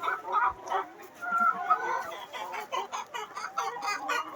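Backyard hens in a muddy coop cluck in a continuous busy chatter. Several birds overlap in short, rhythmic calls at a moderate distance, with no talking.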